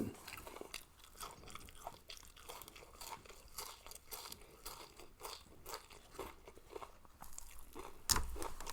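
Crunchy meatballs in mushroom sauce being bitten and chewed up close, a continuous stream of dense crisp crunches and wet chewing, with a sharper louder crunch near the end.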